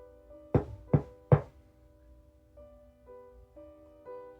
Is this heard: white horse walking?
no